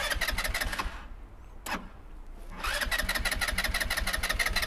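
A Volta RM5 motorcycle engine turns over with a short starter burst, then catches and settles into a steady mid-pitched running rumble close by.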